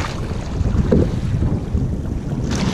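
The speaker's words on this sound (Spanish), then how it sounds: "Viene el mar, viene ola larga, grande, ¿eh?" Open sea water sloshing and rolling swells around a rowing boat during training, with steady wind buffeting the microphone in a dense, continuous low rumble and no voices.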